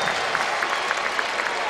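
Steady crowd applause fills an arena as a player takes the court at a Louisville Cardinals vs Georgia Tech Yellow Jackets college basketball game, loud and continuous throughout.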